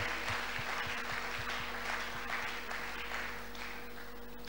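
A church congregation at a Sunday service applauds together, a dense, steady wash of many hands clapping that fills the room and tapers slightly toward the end.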